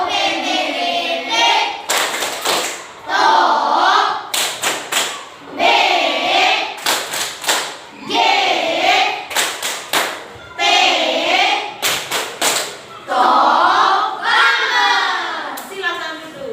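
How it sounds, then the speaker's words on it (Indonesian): A class of children at an elementary school joins in a rhythmic clapping cheer: groups of sharp, loud claps alternate with chanted young voices, repeating across the room. "Sekarang kasih tepuk TOP untuk TOPBGT untuk mereka."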